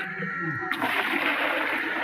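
Stored water is poured out into a garden, splashing out in a sudden rush after a brief voice, a loud close gush that continues steadily to the end.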